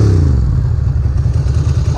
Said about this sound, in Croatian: hajde da vidimo da li će da upali ovaj motor